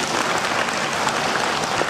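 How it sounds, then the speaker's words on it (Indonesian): Audience applause fills a university rector's lecture at a large Islamic gathering at UNS: steady, dense clapping from a big crowd, loud and continuous, with no voices over it. "Tepuk tangan untuk mereka."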